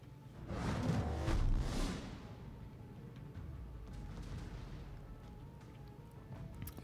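Naval shell fire in World of Warships, with a couple of heavy booming salvos and a whooshing surge early on, then a quieter low rumble of the battle under faint sound.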